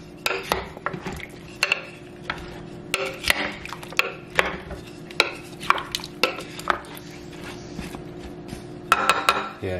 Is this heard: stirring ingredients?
yes